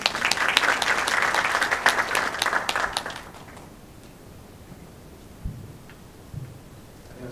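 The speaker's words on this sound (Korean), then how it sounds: "큰 박수로 환영 부탁드립니다" An audience at a startup investor session gives a dense burst of applause to welcome the next speaker, which fades out after about three seconds, leaving a quiet room with a few faint knocks.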